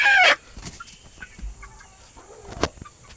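Young Shamo chicks cluck and peep with a sharp burst of chirping at the start, then sparse soft clucks and light rustling as they are moved into a new cage.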